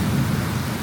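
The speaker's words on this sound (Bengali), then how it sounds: "আর নয় ওই শম্পা, বৃষ্টি কমার পরে যাও, মানে খালি দেখে চলে আসো।" Steady rain with thunder during a downpour, a dense low rumble and constant wash of rainfall, loud and unbroken with no distinct strikes.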